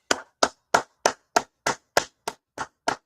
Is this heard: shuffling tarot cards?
no